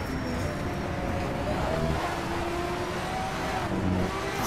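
Race car engine at full throttle in Need for Speed Shift, a steady loud roar with rising whine as it accelerates, continuous throughout with no speech.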